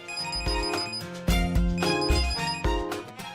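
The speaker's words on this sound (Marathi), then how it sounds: "सुमिताच फोन आला हे घ्या." A telephone rings loud and close in a domestic scene from a Marathi TV serial, its bright electronic ringtone pattern repeating in rhythmic bursts for the whole stretch, with no voices over it.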